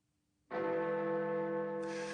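A single deep chime of Big Ben rings out on New Year's Eve 1945, a loud bell strike with a long resonant hum that sustains after a sudden onset following near silence.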